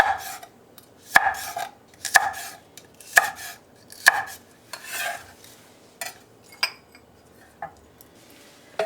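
A knife chops red chili and cheongyang peppers on a cutting board for braised cutlassfish, with about eight evenly spaced, crisp thuds roughly a second apart, close and clear, with no talking.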